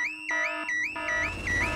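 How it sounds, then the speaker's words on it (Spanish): A cartoon car alarm from Peppa Pig wails in a rapid repeating up-and-down electronic tone, loud and continuous, with no speech over it. "Papá cerdito encendió la alarma. El ruido despertó a todo el vecindario."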